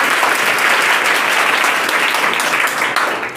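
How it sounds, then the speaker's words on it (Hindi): Steady, dense applause from a classroom of students at a government school in Bihar, clapping for their teacher; loud and continuous throughout with no pause. "ताली बता दीजिए आप लोग।"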